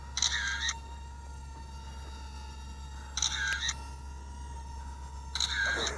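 A small EDrone Black Knight Cube micro folding selfie quadcopter takes photos, giving three short bright electronic shutter-click bursts spaced a few seconds apart over a steady low hum and a thin whine.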